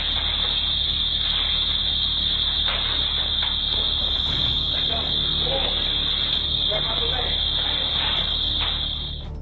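A store alarm shrieks during a robbery by masked thieves, a loud piercing continuous electronic tone that never lets up, with faint clattering and movement underneath.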